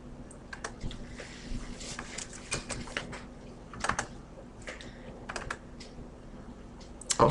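Typing a comment into a text box on a computer keyboard while annotating a PDF: steady, close patter of key clicks over about seven seconds with a few louder strikes and a low background hum.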